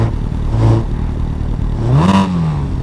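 A 2024 Suzuki Hayabusa motorcycle pulls away in first gear on a road, its engine rising in two short, close revving bursts over a steady low rumble, with no talking.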